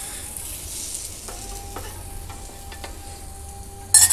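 Bread omelette sizzling steadily in a frying pan, a continuous close crackle with light stirring and scraping touches, a brief louder clatter at the very end; no speech.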